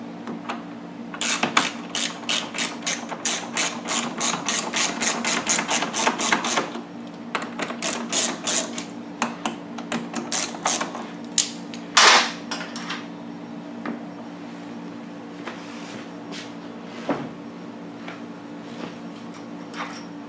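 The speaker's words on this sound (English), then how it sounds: "I'll start the bolts. I won't torque them down until they're all in place." Rapid ratchet clicking in bursts as bolts are started on a Pulsar PG4000iSR generator extended runtime fuel kit, fast steady runs for the first several seconds, then sparser clicks and a few sharp metallic knocks, close and clear with no talk.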